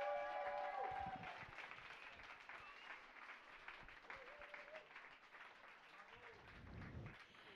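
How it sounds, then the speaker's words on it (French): Audience applause at the close of a psychology event, a crowd clapping continuously at a steady density, fairly faint and distant, with talk and crowd noise mixed in. "On vous applaudit."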